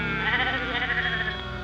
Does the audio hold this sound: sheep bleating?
yes